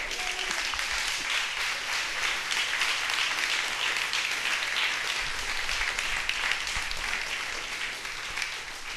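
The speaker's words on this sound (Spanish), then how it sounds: "Brinden un aplauso al Señor." A church congregation applauding, dense sustained clapping from many people filling the whole stretch at a steady level.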